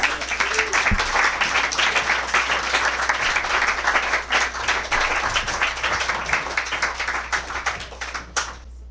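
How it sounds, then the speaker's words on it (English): Audience in a museum media lab applauding a performer, sustained dense clapping at steady volume that thins out and stops near the end. "let's give Allison a round of applause"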